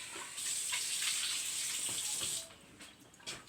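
Tap water runs steadily into a cooking pot being rinsed in a home kitchen, a loud continuous hiss and splash that cuts off partway, leaving faint clinks and drips.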